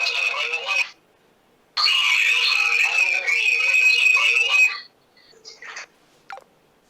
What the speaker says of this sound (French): Un autre appel sur WhatsApp.